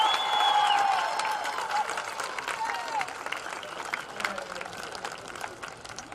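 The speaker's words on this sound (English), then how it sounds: "Let's give all of these outstanding student athletes a round of an applause." A crowd applauds and cheers for student athletes at a Division III women's soccer championship, steady clapping with some whistles and voices that gradually thins toward the end.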